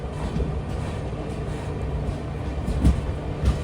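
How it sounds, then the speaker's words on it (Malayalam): A Konkan Railway train, the Sindhudurg Express running from Goa toward Mumbai in the monsoon, pulls into Karmali station with a steady low rumble, a couple of heavier thuds standing out near the end. "7:19 ട്രെയിൻ ഇതാ കർമാലി സ്റ്റേഷനിലേക്ക് എത്തുകയാണ്."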